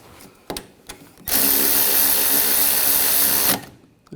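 Power tool tightens wheel hub bolts on a 2014–2018 Nissan Rogue, a single continuous whirring burst of about two seconds after a few faint clicks, close and alone.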